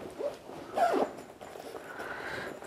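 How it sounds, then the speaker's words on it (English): Zipper being drawn shut on a padded Mares Cruise Journey dive bag, a couple of short close rasping pulls with a longer softer zip after, no talking. "that zips up."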